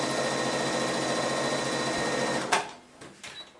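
Sewing machine running steadily while stitching quilt seams, a continuous close mechanical whir that stops abruptly near the end, followed by a few small clicks and handling sounds.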